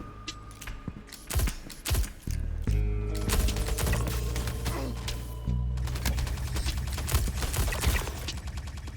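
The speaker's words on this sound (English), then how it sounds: "keep that in mind while using the Salvo Frag pistol" Rapid gunfire from the Salvo Frag pistol in the video game Star Citizen, loud sharp shots in quick bursts with explosive frag impacts and clattering game effects, continuous through the clip.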